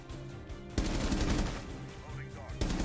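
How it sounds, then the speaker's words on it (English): Repeated gunfire punches through walls in a Rainbow Six Siege match, loud bursts with a sharp onset near the start and again near the end, crackling close over a busy in-game background. "You better double wall bang right now."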